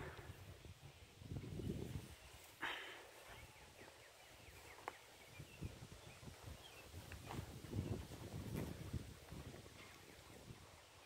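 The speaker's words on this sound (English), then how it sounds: "Yep, it's windy today. Wind's blowing like crazy." Strong outdoor wind gusting into the microphone, rising and falling in buffeting rumbles with a few sharp knocks, fairly faint overall and with no speech.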